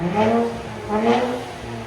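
A 2023 Nissan Z with a straight pipe exhaust revs twice in quick succession, a loud, raspy rising roar close by.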